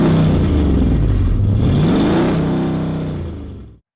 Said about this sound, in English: they hear that V8 start off for the first time.